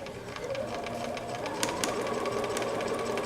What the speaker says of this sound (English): So we're just going to do a little straight stitch here.